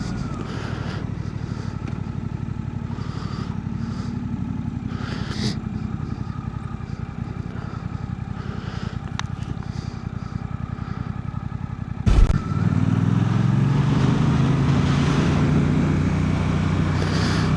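Suzuki GSX-8R motorcycle ridden at low speed on a cold February ride in New York, a steady engine drone with wind rush, then a brief bump and a deeper, louder engine tone near the end.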